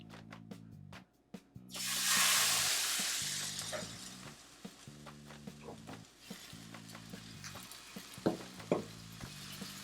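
Vegetable pancake batter (gluten-free yachaejeon) hits a hot oiled pan with a loud hissing sizzle burst that settles into a quieter, crackling fry, with faint music underneath.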